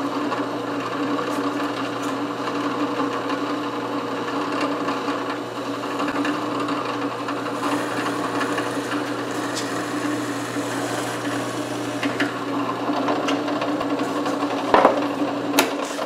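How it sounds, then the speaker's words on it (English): A power drill with a 5/16 inch bit boring holes in a wooden jig, a steady loud motor whine with a constant pitch throughout and a brief clunk near the end. "I'm just going to drill some holes with a 5/16 bit"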